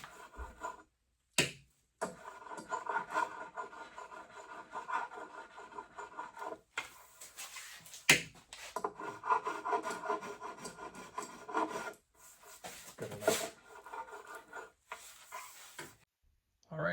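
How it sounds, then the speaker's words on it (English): A spokeshave smooths the torn edge of a shaped wooden board in repeated rasping strokes, each a few seconds long with brief pauses between, close and steady with no talking. "This is where I can take my spokeshave,"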